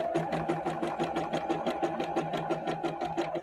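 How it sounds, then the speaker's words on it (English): A sewing machine runs a zigzag stitch on shirring elastic, a fast even needle chatter with regular rapid beats, close and steady throughout. "So I'm just going to use a zigzag stitch"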